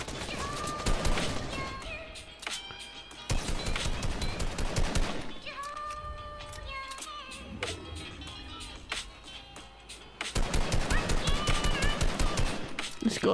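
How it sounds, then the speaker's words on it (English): Rapid gunfire and machine-gun bursts in a battle royale video game, with loud, dense volleys that start and stop over several seconds, mixed with other game sounds and close in the foreground. "Oh, there's some shooting."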